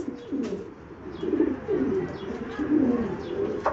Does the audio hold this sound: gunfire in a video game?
no